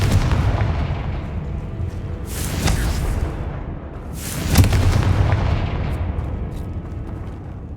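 Two booming fire-spell blasts from the Confringo curse in the video game Hogwarts Legacy, each a loud burst with a crackling, fiery roar, spaced a couple of seconds apart over steady low game ambience.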